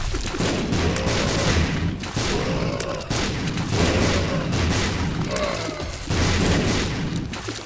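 Heavy explosions and gunfire-like blasts in the video game The Binding of Isaac Afterbirth+ rumble almost nonstop, a dense, loud barrage with deep booms swelling every couple of seconds.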